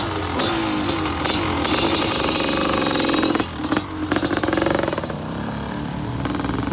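Enduro motorcycle engine, prepared for a beach enduro race at Le Touquet, running loud and close with a rough, steady idle and a few sharp revs midway.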